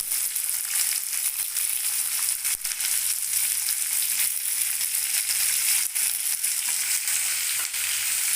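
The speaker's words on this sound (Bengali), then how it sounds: "আলুর সাথে একদম সুন্দর করে এটাও লাল লাল করে ভেজে নেব" Sliced onion and tomato pieces fry alongside potatoes in hot oil, giving a dense, even sizzle that crackles close and loud throughout, with a few faint stirring clicks and no talking.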